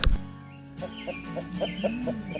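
Chickens cluck in a steady, repeated rhythm of short calls, moderately close, with a faint low hum underneath and no talking.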